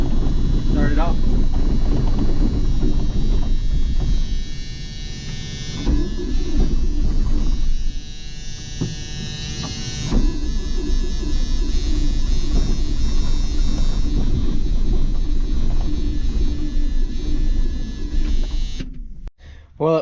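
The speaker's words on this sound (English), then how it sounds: "Well, it fired up, and then it spit and sputter" The engine of a farm harvest machine cranks and catches, then runs rough with a loud, uneven rumble and buzzing, dipping and surging as it sputters before cutting out near the end; wind buffets the microphone.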